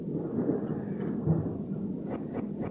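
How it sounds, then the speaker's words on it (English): A thunderstorm rumbles outside in a video game setting, a low, continuous roll of thunder that stays muffled and steady throughout, with no talking. "We have a thunderstorm going on outside."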